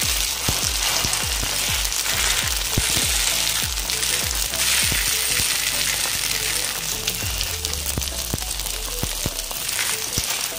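Dried shrimp fritters frying in hot oil give a steady, loud sizzle with dense crackling and popping throughout, close up and with no voices.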